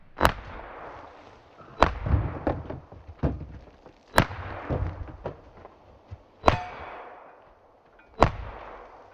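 A Smith and Wesson M&P 15-22 rifle fires about eight sharp shots at cans at irregular intervals, each crack followed by metallic clatter and rattling of struck targets; moderately near, no talking.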